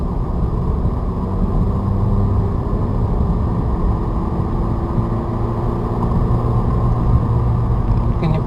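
Manual transmission car accelerating out of a turn after easing onto the gas, a steady loud engine rumble and road noise holding constant throughout from inside the cabin.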